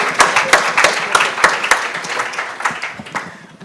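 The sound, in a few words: applause from conference audience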